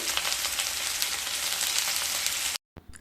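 Chopped raw tomatoes for a vegetarian jhal sizzle and get stirred in a hot frying pan, a dense crackling fry heard up close that cuts off abruptly, followed by a brief faint clatter.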